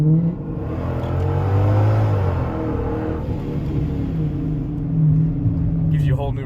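A car's exhaust rumbles low and booming inside the cabin with the rear seats folded down, a droning, slowly swelling tone while a voice speaks over it.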